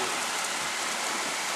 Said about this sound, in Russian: Дождь пошел, все.